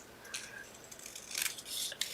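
Scissors snip through card paper in a few quiet, short, crisp cuts close by, with no talking.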